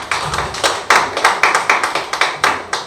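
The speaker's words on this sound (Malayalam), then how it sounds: "അവർക്കൊരു വലിയ കൈയടി കൊടുക്കണം." Sustained applause from an audience at a music and charitable society's anniversary celebration, steady rhythmic clapping that swells in waves, close and loud, with no voices over it.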